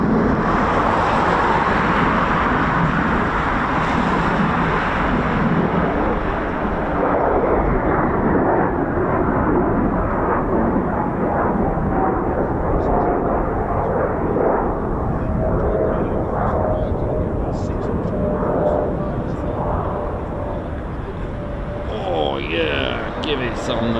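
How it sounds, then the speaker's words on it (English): Eurofighter Typhoon FGR4 fighter jet arriving at an RAF airfield, a loud sustained jet roar filling the whole scene with broad rumble, under continuous talk from a nearby voice. "Oh, Typhoon just coming in now as well."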